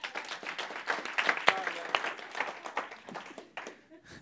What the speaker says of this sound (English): Someone clap with Travis.